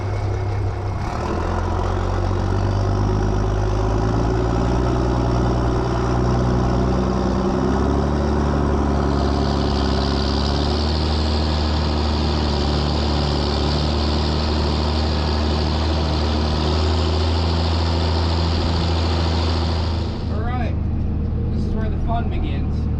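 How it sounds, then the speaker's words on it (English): A tractor engine idles while warming up in rain by a freestall cow barn, a loud, steady low rumble with a higher whine rising midway and a voice talking over it. "let the tractor warm up here for a minute"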